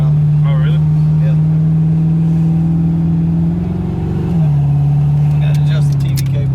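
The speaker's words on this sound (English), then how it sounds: "just so you can listen to the car from start to finish" A Ford Mustang Foxbody with a rebuilt AOD transmission using 4R70 internals, driven with a steady loud engine drone that shifts pitch briefly mid-clip, as people talk inside the car.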